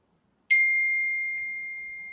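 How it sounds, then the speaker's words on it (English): A phone gives a single bright electronic notification chime that rings out clear and close, then slowly fades over about two seconds in an otherwise quiet room. "now my phone's just making noise all on its own"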